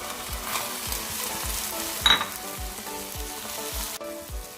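Chopped tomatoes sizzle in a hot pan, with a continuous frying hiss, regular rhythmic stirring taps, and one brief louder clink near the middle, heard up close without any voices.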